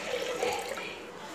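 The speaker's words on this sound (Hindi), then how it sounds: "थोड़ा पानी डालेंगे" Water poured into a pressure cooker with soaked black chickpeas for boiling, a short close splashing gush, steady and moderately quiet, with no talk.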